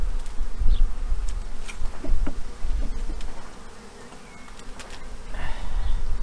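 Honey bees buzz loudly and steadily around open hive frames a month after an Easter swarm, a close, dense drone with individual bees passing by.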